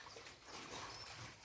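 A dog makes soft, close sounds at a farm where a sow is also kept, with faint whimpering noises running through a steady, low-level background.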